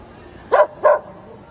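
A dachshund barks twice in quick succession, close and fairly loud, with quiet background between the barks.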